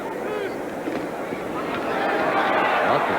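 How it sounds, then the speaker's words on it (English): A 1980s NFL crowd at a Colts–Jets game reacts to a play. A broad roar of spectator noise builds in loudness and dense murmuring swells toward the end, with a commentator's voice mixed in. "And you hear the reaction from the crowd."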